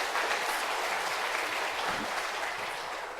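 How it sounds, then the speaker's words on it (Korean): Applause from a church congregation after a praise song, a dense, even wash of clapping that carries through and tapers slightly at the end. "박수로 영광 돌립니다"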